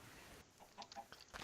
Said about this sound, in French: Les poules encore.